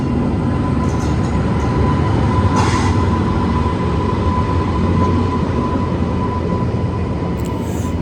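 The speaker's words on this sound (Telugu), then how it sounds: "ప్లాట్ఫామ్ నెంబర్ 4లోకి ఏదో ట్రైన్ వస్తుంది" A train pulls into platform 4 at Solapur station with a loud, continuous rumble of wheels and carriages, plus a faint brief squeal partway through and no voices.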